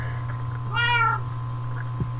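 Single close cat meow in the video game Minecraft, a clear rising-and-falling tone in the middle of a steady low hum and a faint repeating high beep, with no talk.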